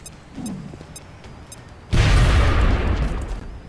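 A grenade goes off in the XCOM video game. A few faint beeping tones come first, then a sudden loud blast that rolls into a long rumbling decay.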